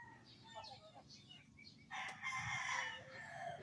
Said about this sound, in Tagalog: May naririnig kang tilaok ng manok.